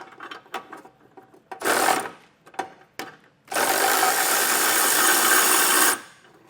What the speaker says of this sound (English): I'll come back with a electric ratchet to make a little bit quicker work of this